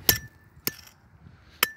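Metal detecting tool striking mountain gravel during slow digging: three sharp clinks spaced apart, fairly close, with quiet gaps between them and no talk.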